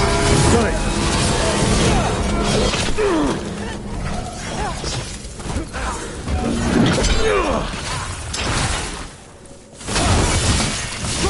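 Chains shattering in the fantasy video game Dragon Age, a loud burst of breaking and crashing with whooshing game effects, layered under a game voice and busy background sound.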